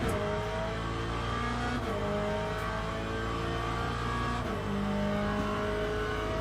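A race car engine in Le Mans Ultimate, driven at Imola, revs loudly and steadily with a whining, shifting pitch that drops at gear changes, close and continuous with no talking.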